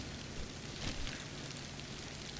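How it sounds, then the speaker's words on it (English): Steady rain falls in the DayZ survival game, a dense even hiss with no pauses, moderately loud and alone without any voices. "I actually don't mind the rain."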